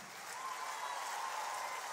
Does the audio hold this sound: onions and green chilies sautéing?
no